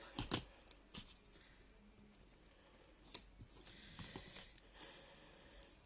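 Small scissors for trimming double-sided tape snip and rustle faintly and close up, several quick crisp cuts scattered among light handling noises and paper shuffling.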